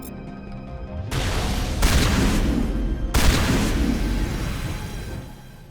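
Incendiary rounds fired in the video game Mass Effect, heard as heavy, booming volleys of gunfire in a few loud, overlapping bursts that swell and slowly fade.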